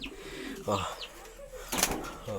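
A pet pigeon at home, heard up close with soft cooing and a few brief bursts of wing flapping, mixed with some background voice.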